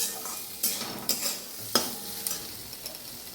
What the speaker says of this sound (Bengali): একটু হলুদ দিচ্ছি, একটু নুন দিচ্ছি, দিয়ে নাড়ছি